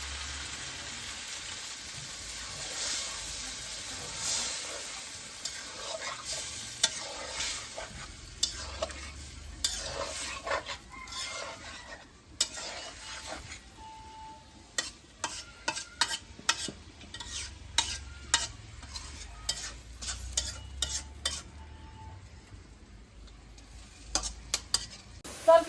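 Curry simmers and bubbles softly in a pan after water is added, while a utensil stirs and scrapes repeatedly, giving frequent sharp clinks and taps over the low sizzle.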